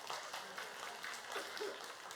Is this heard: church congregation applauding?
yes